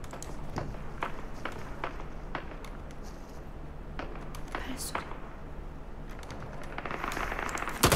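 Footsteps in a shooter video game, a run of quick irregular taps and thuds over a steady low game hum, with a louder crackling burst near the end.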